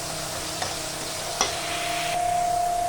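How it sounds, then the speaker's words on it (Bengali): Sour yogurt stir-fried in hot oil with spices for a fish curry, sizzling steadily up close, with a few sharp scrapes and taps of a spatula against the pan. "এই সময় দিয়ে দেবো 2 চামচ মতো টক দই। দিয়ে ভালো করে একটু কষিয়ে নেব।"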